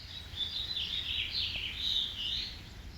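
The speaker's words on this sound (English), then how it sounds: "The sound of birds is so peaceful and relaxing." Birds chirping and singing continuously, a faint, high-pitched twittering over a low steady background rumble, heard at a moderate distance with no voices.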